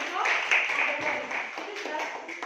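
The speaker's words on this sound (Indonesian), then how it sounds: "Tepuk tangan buat teman-teman." Schoolchildren in an Indonesian classroom clap for their classmates, a fairly quiet, busy patter of small hands lasting a couple of seconds with voices mixed in.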